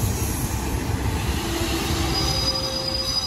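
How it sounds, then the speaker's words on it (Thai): A special express train rolls into Taphan Hin railway station in Phichit, Thailand, with a loud steady rumble and high, drawn-out wheel squeals over the noise. "มาแล้วครับรถด่วนพิเศษ7จอดรับส่งผู้โดยสารที่สถานีรถไฟสะพานหิน"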